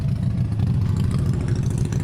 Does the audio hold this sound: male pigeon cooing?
no